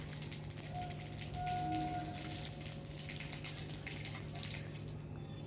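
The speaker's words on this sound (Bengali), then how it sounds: "আর এর মধ্যে আমি এখন ফোড়ন দেব একটু শুকনো লঙ্কা আর সর্ষে।" Mustard seeds and dried red chillies sizzle in hot oil for a tempering for tomato dal, a steady crackling hiss that stays close and even throughout, with no talking.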